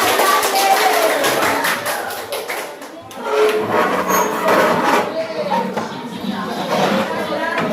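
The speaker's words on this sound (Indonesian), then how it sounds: "Oke, tepuk tangan semuanya." A classroom of children claps together in Indonesia, a burst of hand claps mixed with lively young voices and chatter, loud and close. The clapping tapers briefly midway, then picks up again.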